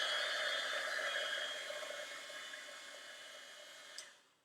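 A hair dryer blows steadily on ink-dipped leaves, a loud continuous airy whoosh close to the mic that eases slightly and then cuts off just before the end.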